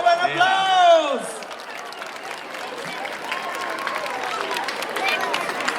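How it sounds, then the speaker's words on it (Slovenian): Crowd applause at the switch-on of Celje's holiday lights: a spoken exclamation at the start, then a spread-out wash of clapping and cheering from a gathered crowd, moderately loud and sustained. "Dajmo en aplavz!"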